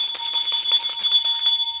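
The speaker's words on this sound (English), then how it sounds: "Let's ring the bell." A bright metallic bell rings in a rapid, sustained trill for nearly two seconds, loud and close, then cuts off abruptly with no voices.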